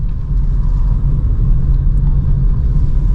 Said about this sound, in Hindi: अब यहाँ पे सेकंड गियर पे ही गाड़ी चल रही है